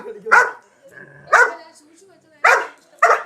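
A dog barks four times, sharp and close, in loud separate bursts with short pauses between them and soft vocal sounds in the gaps.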